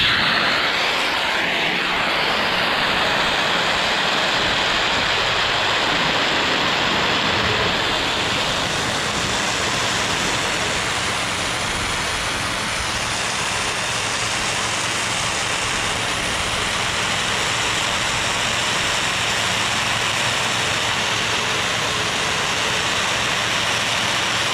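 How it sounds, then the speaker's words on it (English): A pressure washer hose rinsing water through an open ball valve at low pressure, a loud steady broadband rush of spraying water that continues without a break, with no voices. "Now I'm going to take my ball valve and just rinse it."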